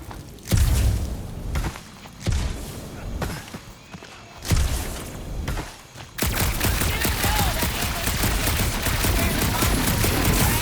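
Bursts of gunfire in the Guardians of the Galaxy game, several separate volleys with pauses between them, then continuous rapid shooting and impacts, with some talk underneath.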